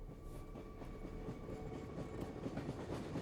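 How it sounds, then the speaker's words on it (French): Steady rumble and rhythmic clatter of a train rolling along rails in Swedish Lapland, heard from on board the carriage, continuous and fairly loud with no talk. "On est à bord de notre dernier train"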